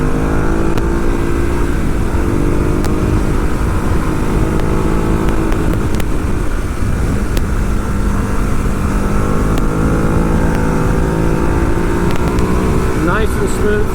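A 2014 Ducati Hyperstrada motorcycle engine drones steadily while riding in Sport mode, a continuous loud hum with shifting harmonics as the revs rise and fall, close and constant throughout with wind rush underneath.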